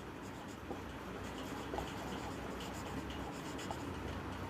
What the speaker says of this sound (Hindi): यहाँ लिखेंगे प्राइस